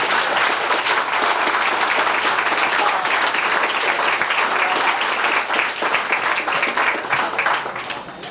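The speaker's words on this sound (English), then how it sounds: "Please give him a round of applause." An audience applauds U.S. Senator Paul Wellstone of Minnesota with steady, full clapping that holds for several seconds, then thins and fades slightly toward the end.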